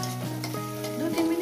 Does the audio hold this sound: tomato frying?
yes